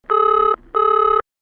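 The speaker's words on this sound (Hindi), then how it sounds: "फोन मिलाया जाए।" A telephone rings as a call is placed, two loud electronic trill bursts of about half a second each separated by a short pause, clean and close with nothing else audible.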